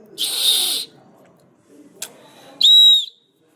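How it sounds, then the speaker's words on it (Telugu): A small swung childhood whistle toy gives a breathy rushing burst, then after a pause a short, bright, clear whistle tone rings out close and loud. "ఇదైతే వెనకాల ఒక విజిల్ వస్తుంది, మనమైతే దీంతో ఊపాలి."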